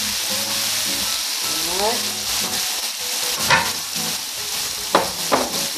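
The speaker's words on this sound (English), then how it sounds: "Now, while that's frying," Chicken searing in a large pan of hot oil for smothered chicken, a steady, close sizzle that fills the clip, broken by a few sharper spits and pan scrapes, with a brief spoken word over it.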